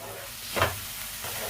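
Spices for a katla fish curry being stirred and sautéed in a pan, a soft sizzle with a brief scraping stir near the middle, fairly quiet and close.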